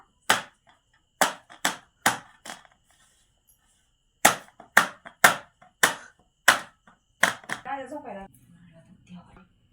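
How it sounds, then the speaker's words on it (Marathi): Jowar bhakri dough being patted flat by hand on a dry-floured surface, giving a series of sharp, close slapping pats in two rhythmic bursts, with a voice speaking briefly at the end. "आता कोरड्या पिठावर गुंडा ठेवायचा आता थापायचा"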